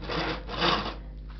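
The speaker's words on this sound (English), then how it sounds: "the whole point of using the tenon saw" A hand tenon saw cuts wood in a couple of rasping strokes, close and fairly quiet, with no talk.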